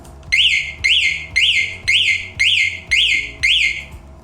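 A loud electronic chirping beep from an electric bike's locator repeats seven times in an even rhythm, each tone sweeping up then down, close and clear.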